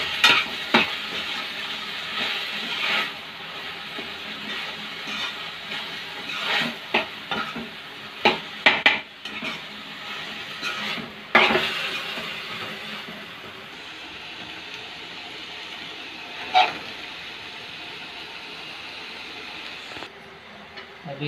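Rajasthani fresh-turmeric sabji roasts in a pan. A soft sizzle runs beneath intermittent spoon scrapes and sharp utensil clinks against the pan, with quiet stretches between bursts of stirring.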